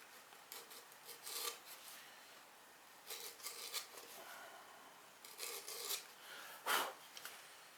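Hacksaw teeth rake down the side of clay pottery in several separate rasping scrapes, faint and close, with quiet pauses between strokes.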